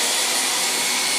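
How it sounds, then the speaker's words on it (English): A vacuum cleaner runs steadily indoors, a loud continuous high-pitched whine and rushing airflow with no other sounds. "Ooh, big scary vacuum cleaner."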